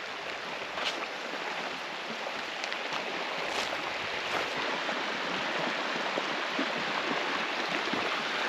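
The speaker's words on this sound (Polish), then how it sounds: "I tutaj jest miejsce, gdzie wołosaty wpada do Sanu." The Wołosaty river flows into the San in the Bieszczady mountains, giving a soft, steady rush of shallow water over stones. The flow is faint and continuous, with no voices.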